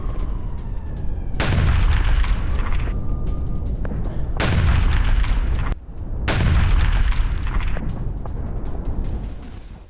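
Repeated heavy booms from a Russian guided artillery rocket strike in Ukraine, three big blasts a few seconds apart, each with a sharp crack and long rumbling roar that keeps the background loud between hits.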